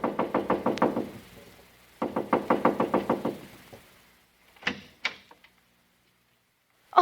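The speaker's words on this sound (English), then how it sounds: "So I just kept knocking and knocking." Repeated knocking on a house door: two bursts of about eight rapid, loud raps each, followed by a few scattered separate knocks and a sharp noise at the end, with no voices.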